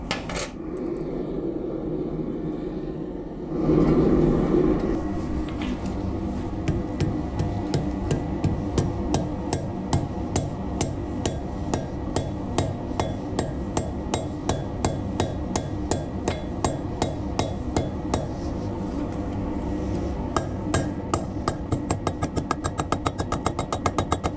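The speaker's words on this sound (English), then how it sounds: "Now I'll actually get this up to forge welding temperature, just hammer it down." A hammer strikes steel at forge-welding heat in a steady, rapid rhythm, ringing blows repeating close by for about twenty seconds after a brief rush of noise.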